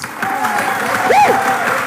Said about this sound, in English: This is the I'm All In clap.